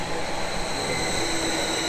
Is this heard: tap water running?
no